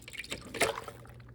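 Canned green chile is poured into a Cuisinart food processor, giving a brief wet splash and a few soft drips, close and quiet with no talking.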